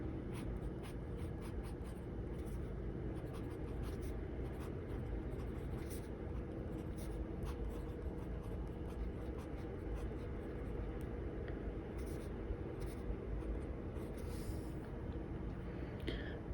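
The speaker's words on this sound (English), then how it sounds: "I have returned and the Swipe is writing, as you can see" A TWSBI Swipe fountain pen with a fine nib scratches across paper in short repeated strokes, faint and close, over a steady loud rumbling background hum throughout.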